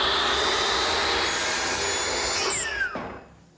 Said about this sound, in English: I'm adjusting my miter saw to 45 degrees so that I can miter the bead